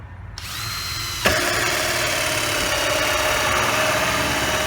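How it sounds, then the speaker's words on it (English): A power drill spins up and bores steadily through PVC pipe, a close, loud, continuous whine with a rough grinding edge. "And we're going to drill another one."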